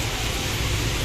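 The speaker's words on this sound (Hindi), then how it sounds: "एक गुड न्यूज़ ये कि बारिश होने लग गई है।" Steady rain falls outside during a stormy spell with lightning, making an even, dense hiss that carries on unbroken with no voices over it.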